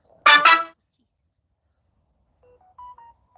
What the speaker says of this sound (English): That's a notification.